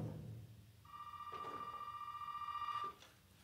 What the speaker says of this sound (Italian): Ma che cazzo suona adesso il telefono?